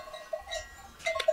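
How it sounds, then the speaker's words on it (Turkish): A young lamb, hand-fed by its keeper, gives a short, thin bleat up close, with a couple of brief wavering cries in just over a second. "Canım kuzumuz"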